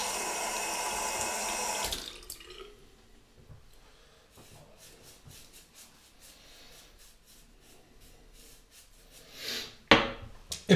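Tap water runs steadily into a sink for about two seconds, then stops, followed by quieter splashing and rubbing as the face is wetted before a traditional shave.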